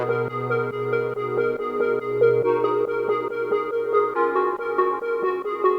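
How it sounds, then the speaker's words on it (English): The Soup preset from the Vices Bank, an analog synth patch with a brassy yet plucky tone, plays a repeating pattern of short, bright notes that shift pitch over a few bars with no voice present. "this is an analog preset from the Vices Bank by Vision EXE."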